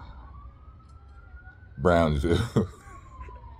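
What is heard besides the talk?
emergency vehicle sirens in the street, Brownsville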